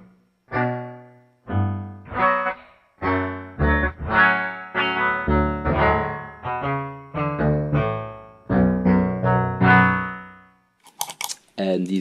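Electro-Harmonix Superego synth pedal on a baritone guitar sustains a sequence of loud chords and notes with swelling attacks, each layered and held before the next, ending in a brief burst of higher plucked notes.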